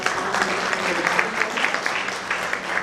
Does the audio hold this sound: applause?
yes